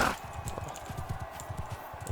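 Horse hooves clip-clop in a steady trot in the video game Mount & Blade II: Bannerlord, the rhythmic hoofbeats close and fairly loud, with a faint ambient background and no talking.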